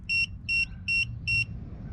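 Four short, loud electronic beeps in an even rhythm confirm a tire position pairing on an Airstream tire pressure monitoring system, each high steady tone clearly separated by brief pauses over low background noise.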